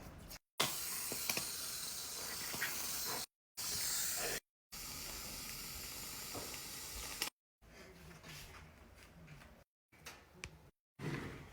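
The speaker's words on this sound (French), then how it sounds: "Pour pas qu'elle voie, je vais mettre de la mousse à raser" Shaving foam sprays from an aerosol can in a home prank as loud, hissing bursts of varying length separated by brief silences, ending with weaker, sputtering sprays and no voices.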